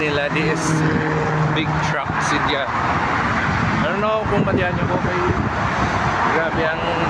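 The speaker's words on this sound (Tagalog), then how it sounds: "Grabe ang noise sa freeway." Freeway traffic near Toronto Pearson Airport, including big trucks, makes a loud, continuous roar with passing vehicles while people talk over it.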